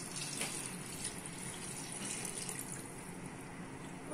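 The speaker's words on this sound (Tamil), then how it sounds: "இப்போ நம்ம குழம்புக்கு தேவையான தண்ணி ஊற்றிக்கலாம்." Water pours steadily into a pot of mutton kuzhambu curry, a faint continuous splashing gush with no talk.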